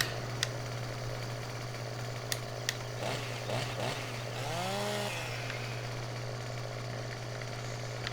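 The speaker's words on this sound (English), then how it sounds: "So here is our chainsaw." Chainsaw in Farming Simulator 17 on the Sandy Bay map, a steady droning engine with a brief revving swell midway and a few sharp clicks, loud and continuous with no talk.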